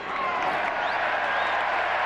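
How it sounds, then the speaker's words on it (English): A baseball crowd at a Yankees–Red Sox game at Fenway Park gives a mock cheer on strike one, a dense, sustained roar of voices and applause filling the whole moment with no break. "Mock cheer on strike 1."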